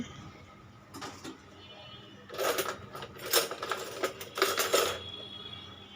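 Olive pickle cooks thick in a pan and is stirred over and over so it won't catch at the bottom. Scraping and clinking spatula strokes come in bursts over a quiet, low background.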